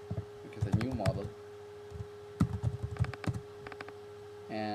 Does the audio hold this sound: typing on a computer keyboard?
yes